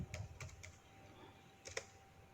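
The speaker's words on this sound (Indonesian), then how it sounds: "Kemudian kita ngetik" Someone types on a computer keyboard while working in Microsoft Excel. A few faint, close keystrokes come in a quick cluster at the start and again near the end, with quiet room tone in between.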